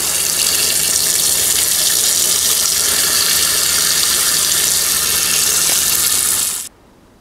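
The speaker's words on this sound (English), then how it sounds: "Now, I'm going to be using my shower head. Okay, right there. Put water in here. Go ahead and fill that up." Water from a shower head pours steadily into a mini compact automatic portable washer, a loud, continuous broadband gush that runs unbroken for several seconds and then cuts off abruptly near the end.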